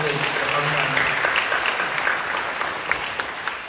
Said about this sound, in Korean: 박수로 경배해 주시고 감사합니다.